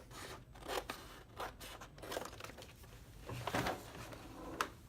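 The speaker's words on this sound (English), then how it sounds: "we're going to cut away just a piece of the transfer tape that's a little bit bigger than the size of your sticker" A sheet of vinyl transfer tape is snipped with scissors, giving several soft, close cuts and rustles spread unevenly, quiet and with no talk.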